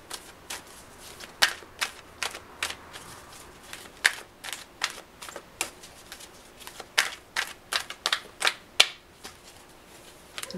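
Cards being shuffled to draw an intuitive card during a weekly astrology card reading: a steady run of crisp, rapid riffling clicks and snaps, close and fairly quiet, with no talking.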